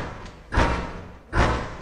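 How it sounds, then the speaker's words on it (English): Two heavy, muffled thuds land about a second apart on a front door, knocks with a boomy low body and a short decay in a quiet room. "someone knocks at the front door."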